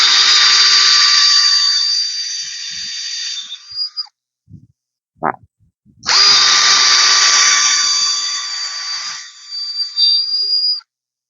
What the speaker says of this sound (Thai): เจาะไปนี้ไปเรื่อยๆนะครับนี่ครับเจาะไปเรื่อยๆ